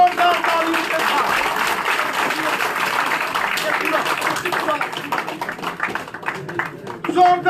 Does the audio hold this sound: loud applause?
yes